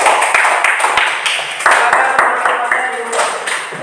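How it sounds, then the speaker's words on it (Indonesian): A classroom group gives a short burst of scattered hand clapping for the second group, with a broadband clatter of claps mixed with voices and room noise. "Kita beri tepuk tangan untuk kelompok 2."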